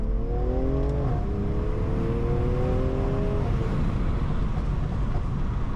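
A 2020 BMW M340i's turbocharged B58 engine revs up loudly with rising whine, shifts once, then keeps climbing under steady road and engine roar.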